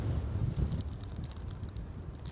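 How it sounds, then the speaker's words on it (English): Strong gusty wind buffeting the microphone outdoors at Newcastle Airport during a snowy crosswind day, a low rumbling roar that surges and eases over a couple of seconds. "that is as windy as I've felt it today, and you can probably hear that on mic"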